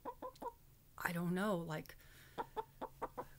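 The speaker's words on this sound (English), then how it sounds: "And she's a very, very brave hen" A hen clucks in short, close, rhythmic bursts before and after a person's brief spoken phrase, the clucks faint and evenly spaced.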